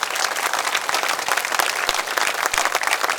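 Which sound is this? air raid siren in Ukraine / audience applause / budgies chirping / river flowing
audience applause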